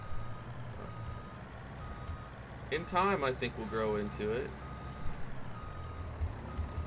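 A massive new truck for moving calves backs up on a dairy farm, its reversing alarm giving a short run of rapid, fairly faint beeps under someone talking, against steady engine rumble.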